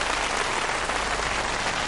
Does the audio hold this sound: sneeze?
no